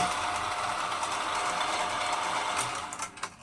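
A 2M12 drill press runs with a steady mechanical whir and a faint rhythmic gear and ratchet-like clatter. It stays fairly loud and constant, then tapers off near the end.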